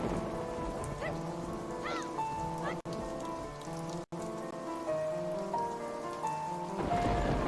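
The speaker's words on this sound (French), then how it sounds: "Il est également bon de signaler qu'une pluie sans fin s'abat à présent ici." Endless rain in the game Zelda Forgotten Legend patters steadily and evenly under a soft, melancholy melody.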